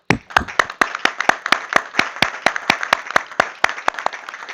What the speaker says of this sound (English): I wonder if we can give them a round of applause.